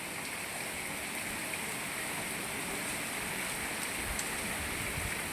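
Heavy rain pours down in Moti Gop, Gujarat, as a steady, dense hiss that holds even and unbroken throughout, with no voices or other distinct sounds standing out.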